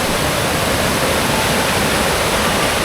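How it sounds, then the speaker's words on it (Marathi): Sawatsada waterfall on a Konkan roadside between Chiplun and Guhagar roars in a steady, loud, unbroken wash of falling water, close by and with no voices. "मध्येच रस्त्यात एक मस्त धबधबा दिसला"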